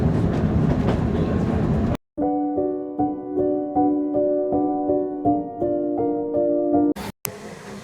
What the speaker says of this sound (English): I'm going to enjoy the train ride.